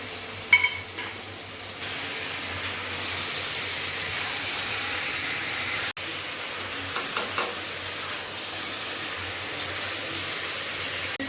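Chicken curry with raw tomatoes gets stirred in a frying pan, a steady soft sizzling hiss with a few clinks and scrapes of the spatula near the start and again later, no talking.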